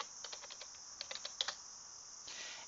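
Computer keyboard keys tapped in a few quick bursts of light, close clicks with short pauses between, entering a figure into an Excel spreadsheet; no voices.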